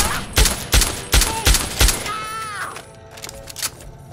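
Rapid gunshots ring out in Fallout 3's The Pitt expansion, a loud burst of about seven evenly spaced shots followed by a lingering whine and fading mechanical tones.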